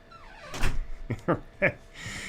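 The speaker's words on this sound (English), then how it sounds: "please shut the door behind you." A household door closes with a few solid thunks and a latch click, heard close and moderately loud indoors, with a faint voice just before.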